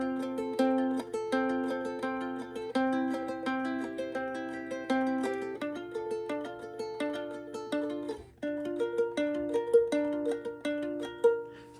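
Ukulele plays a Travis picking pattern for a song from Frozen II, alternating inner and outer strings in a steady, flowing run of soft plucked notes, quiet and alone.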